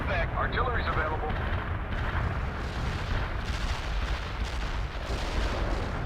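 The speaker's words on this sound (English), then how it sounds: "Artillery barrage hit for full effect" An artillery barrage in World in Conflict, with dense rumbling blasts and booms that roll on without a break, heavy and close.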